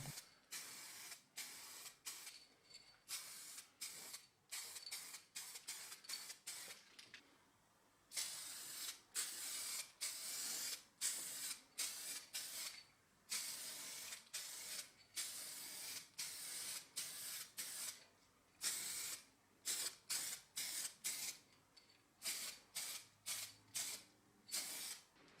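Aerosol spray paint hissing onto a warm tin box being coated black, a series of short and longer bursts with brief pauses between them, close up and fairly quiet.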